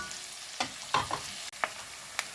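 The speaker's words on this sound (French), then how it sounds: "je mélange le tout jusqu'à ce que mes oignons commencent à être plus que transparents" Onions fry in a pan, a gentle steady sizzle punctuated by several distinct scraping stir strokes of a utensil, close and fairly quiet, no one speaking.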